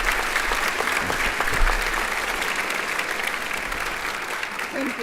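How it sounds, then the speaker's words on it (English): Audience at a Holocaust Remembrance Day gathering gives continuous, dense applause welcoming speaker Anita Carl, steady and full throughout. "Please join me in a rousing round of applause welcoming Anita Carl."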